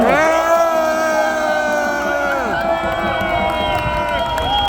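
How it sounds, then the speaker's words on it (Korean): A crowd at an outdoor election rally at Seoul Station cheers and applauds loudly, with whoops and shouting voices over amplified, echoing sound and a sustained tonal drone, all close and dense from start to finish. "여러분 박수 한번 크게 보내주세요"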